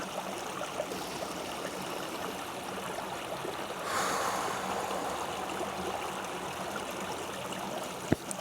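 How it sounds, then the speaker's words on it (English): Water trickles and burbles along a small stream, a steady close rush that swells slightly midway, with a brief sharp tap near the end. "enjoy the trickling water"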